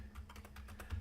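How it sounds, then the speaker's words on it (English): A short burst of soft, evenly spaced keystrokes on a computer keyboard, faint and close over a low background hum, with no voices. "Let's type in"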